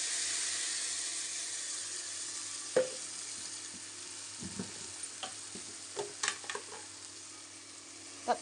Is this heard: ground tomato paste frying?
yes